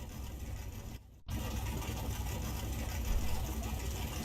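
Car engine idling in Car Mechanic Simulator 21, a steady low rumble with a brief dropout near the start before it resumes evenly; faint and continuous.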